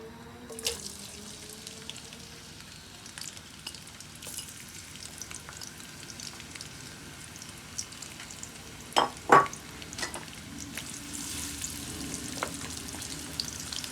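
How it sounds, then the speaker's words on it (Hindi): Onions dropped into hot oil for keema, giving a faint, low sizzle with scattered clicks and a couple of louder clanks partway through, and no talking. "ऑयल गरम हो गया है, तेल। अब इसमें प्याज डालते हैं।"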